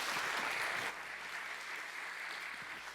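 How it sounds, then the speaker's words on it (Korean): A church congregation at a Wednesday prayer service gives a warm round of applause to welcome the pastor, a steady wash of many hands clapping that eases slightly after the first second and continues at a moderate level. "우리 목사님 모실 때 큰 박수로 우리 환영하겠습니다"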